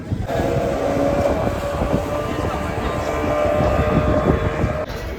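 A tour boat's steady, loud engine drone on Hussain Sagar lake, with a low rumble and mechanical hum running throughout, fading slightly at the very end.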